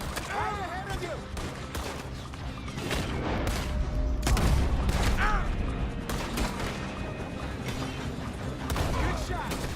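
Gunfire in the western video game Red Dead Redemption 2: a rapid string of sharp shots cracking again and again over rumbling booms during a firefight, with voices talking over parts of the shooting.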